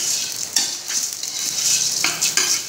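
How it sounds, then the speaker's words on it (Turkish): Buckwheat roasts in oil in a pan, giving a bright crackling sizzle with a few scraping stir strokes, close and steady through a short stretch. "Kavurma işlemi."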